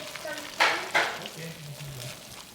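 Ramen stir-fry with mung bean sprouts sizzles in a hot pan, a soft steady hiss broken by two sharp scraping stirs early on, with light voices in the background.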